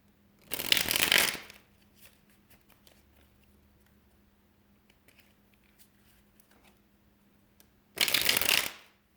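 Two bursts of tarot card shuffling, each about a second long, close and crisp, separated by a quiet stretch with faint handling noises and a low hum.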